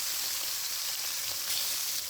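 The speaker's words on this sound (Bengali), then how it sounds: "আরে মাছগুলো দিয়ে দিতেছি, তাহলে মাছগুলো যাবে ভাজা হয়ে যাবে মোটামুটি।" Hilsa fish pieces fry in a hot pan, giving a dense, steady, close sizzle that carries on unbroken with no voices.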